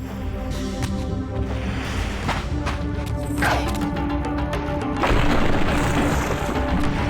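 Soul Reaver 2 gameplay, with an enemy spamming fire breath: a loud, dense roaring rush of flame with repeated booming bursts and whooshes over a busy game soundtrack, swelling louder toward the end.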